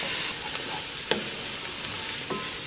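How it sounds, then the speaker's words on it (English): Vegetables sauteing in a pot on a home stove, a steady close sizzle and hiss with a few faint clinks of stirring over it. "I'm just going to let this kind of saute for a few minutes"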